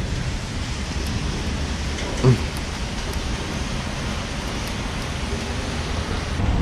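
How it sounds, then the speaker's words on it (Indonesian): Rain falls steadily outside as a continuous soft hiss heard from indoors, with one brief faint knock partway through. "Di luar hujan, guys."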